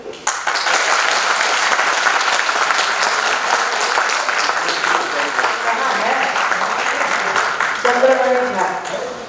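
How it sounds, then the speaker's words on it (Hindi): Audience at a Lok Kala Akademy folk performance in Darbhanga applauds an artist with loud, sustained clapping that carries on throughout, close and dense, with voices faintly mixed in near the end. "और एक बार आप अपने उस कलाकार के लिए ताली बजाइए।"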